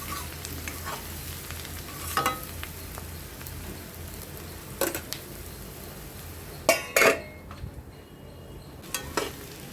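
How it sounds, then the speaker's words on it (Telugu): Salted onions fry in a pan while being stirred, making a low continuous sizzle broken by several sharp spoon knocks and scrapes against the pan, the loudest near the end. No voices. "ఉల్లిపాయలు ఫ్రై అవుతూ ఉన్నప్పుడు సాల్ట్ వేసానండి."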